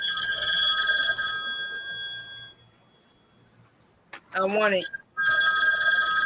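A telephone bell rings loudly in sharp repeated bursts, stops for a few seconds while a person speaks briefly, then rings again.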